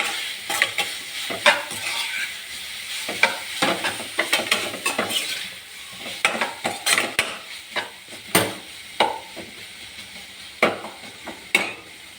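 Breadfruit stir-fry being stirred in a hot pan, repeated scraping and clinking of a spoon against the metal over a soft steady sizzle, close up, no talking.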